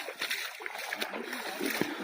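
Heavy rainwater rushing through a forest on a dangerous mountainside, a steady broadband wash and splashing that stays fairly even and close for the whole stretch, with no clear speech over it.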